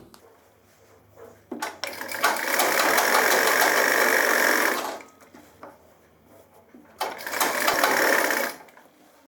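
Sewing machine stitching the body seams of a pair of men's trousers in a tailoring lesson, running in two sustained bursts of steady whirring with a quiet pause between them, close and fairly loud.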